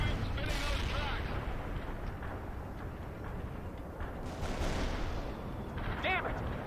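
Battle din from the World in Conflict video game: continuous gunfire and artillery rumble form a dense, unbroken roar, with a few brief higher-pitched effects rising near the start and end.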